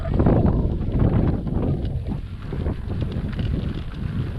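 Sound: wind blowing on microphone

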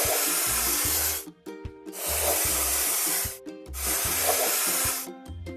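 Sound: spray painting a vehicle in a children's video game

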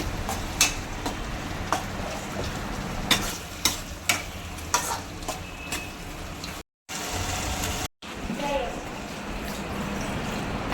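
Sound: stirring tomatoes in a pan for potato poha

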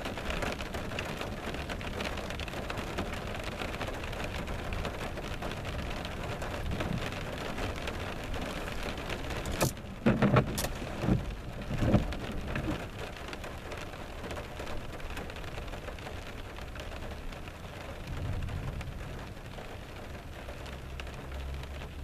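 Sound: thunderstorm rain falling on a parking lot

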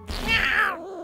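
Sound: cat meowing in the South Park video game

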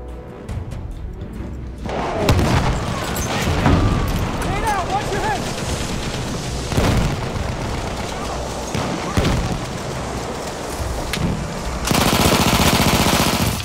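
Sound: artillery strike in a video game

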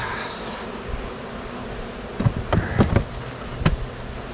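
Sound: bees buzzing around beehives

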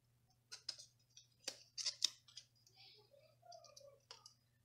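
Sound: trimming paper with scissors for a Happy Planner

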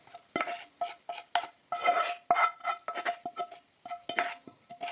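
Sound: stirring cabbage with fried onion and oil

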